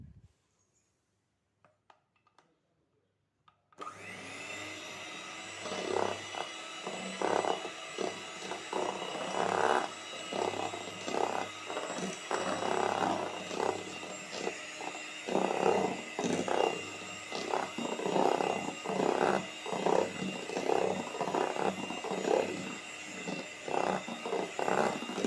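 A stand mixer whirs steadily at mid-volume, mixing French macaron ingredients in a home kitchen, starting after a few seconds of near silence, with a continuous motor hum and irregular bursts of batter slapping and whisk rattle.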